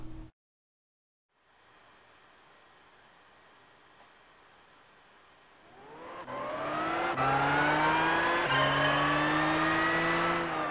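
A Volkswagen GTI Roadster Vision in the racing game Gran Turismo 6: after a brief silence a low engine hum idles, then the motor revs up hard through rising gear pulls, loud and sustained to the end, with no voices.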